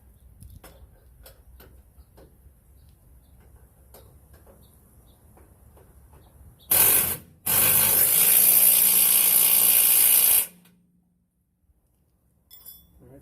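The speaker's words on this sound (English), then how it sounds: "this impact is rated at I think 300 foot-pound" Impact wrench tightening a bolt on the rear suspension of a 2017 Ram 1500 during spring and shock replacement: a brief loud rattling burst, a short pause, then a sustained three-second hammering run, close and without talk.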